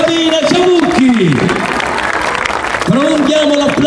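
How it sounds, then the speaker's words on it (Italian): Sustained, dense applause from a concert crowd fills the whole span, loud and continuous, with a voice speaking on top at the start and again near the end. "Prolunghiamo l'applauso per questi ragazzi che ci hanno seguito per tutta l'estate"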